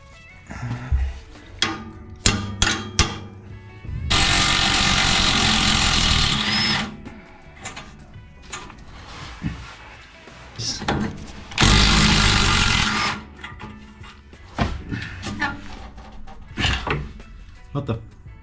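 An impact gun rattles off exhaust bolts on a Honda Civic FN2 Type R, firing two loud sustained bursts of a few seconds each amid clanks and tool handling, with short scattered hits around them.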